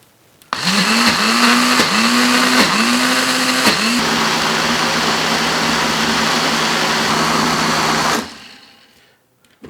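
A Ninja blender with a different attachment whirs loudly through pistachio-citrus pesto, pulsing in a few quick bursts before settling into one sustained high-speed run, then cutting off and winding down.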